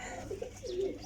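Soft, low cooing from rare breeder pigeons, two faint rolling coos close together at low volume, with no talking.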